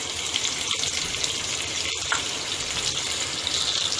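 Onions frying in hot oil in a kadai: steady bright hissing sizzle close up, with a couple of soft knocks, continuing evenly throughout with no talking.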